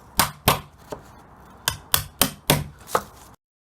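Sharp hammer blows on wood, about eight strikes in uneven rhythm, close and fairly loud, with short gaps between them.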